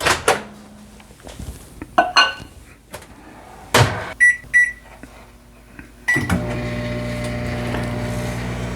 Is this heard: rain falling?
no